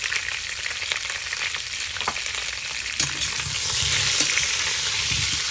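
Meat fries in a kazan with garlic cloves and half a hot pepper, giving a continuous loud hiss and crackle, with occasional clinks of a stirring utensil, close up with no talk.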